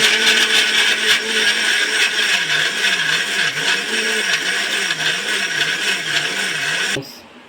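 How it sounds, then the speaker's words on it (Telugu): A mixie grinder blends mango pieces into a smooth paste, its loud steady motor whine running continuously with a wavering pitch before cutting off abruptly near the end. "మిక్సీకి వేసాను, దీన్ని మెత్తగా పేస్ట్ చేసుకోవాలి."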